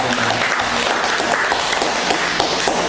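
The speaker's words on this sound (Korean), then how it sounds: "축복의 박수를 한번 보내겠습니다" Steady, loud congregation applause at a Sunday church service, a dense continuous patter of many hands filling the whole stretch without pause.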